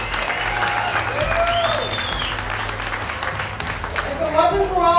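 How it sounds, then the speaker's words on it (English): An audience at the 2011 OPA World Championship racing awards ceremony gives a sustained round of applause, dense clapping filling the room with some voices audible over it. "We give her all a big round of applause"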